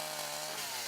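A chainsaw cuts firewood for cooking dinner in a mountain setting, running loud and close as one steady, continuous buzz through the whole second, with no voices.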